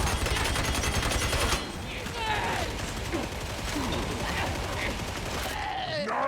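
A machine gun hammers out a dense, rapid burst in the video game Darktide, followed by scattered combat noise and further bursts under faint background voices.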